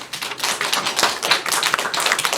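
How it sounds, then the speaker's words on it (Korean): Church congregation clapping along during a sermon at a ministers' meeting, a dense steady patter of many hands close by, continuing without a break and with no voices over it. "박수 한번 칩시다."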